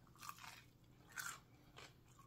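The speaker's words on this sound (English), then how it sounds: "Great crunch, as you can hear." Crunchy deep-fried ham and cheese coated in corn flakes bitten into, three sharp close crunches spaced about a second apart with no talking.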